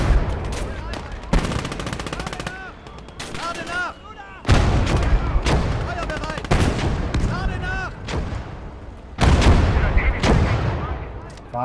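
Close Combat: Gates of Hell battle noise: bursts of rifle and machine-gun fire crackle in clusters, punctuated by heavy artillery booms, loud and continuous with brief lulls.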